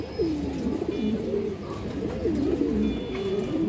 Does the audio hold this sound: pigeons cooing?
yes